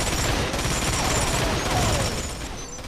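Rapid continuous Gatling gun fire in the video game Urban Chaos Riot Response, a dense loud stream of shots filling the whole stretch, tapering slightly at the end.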